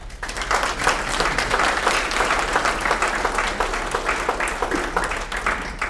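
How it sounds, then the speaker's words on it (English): A crowd at a county sports hall of fame induction ceremony gives inductees a big round of applause, dense, sustained clapping from many hands that stays loud and even throughout. "Let's give them a big round of applause."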